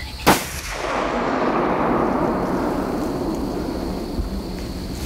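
A single sharp rifle shot cracks out close during a deer hunt, then rolls into a long, loud rumbling echo that fades slowly across the open woods.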